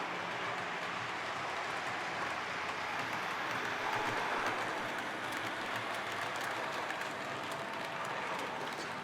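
Two model locomotives haul heavy cars slowly through turnouts, producing a continuous close rattling and clattering rumble that holds steady throughout.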